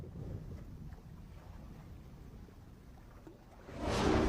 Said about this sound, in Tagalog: Ang hangin, nararamdaman ko may bagyong paparating.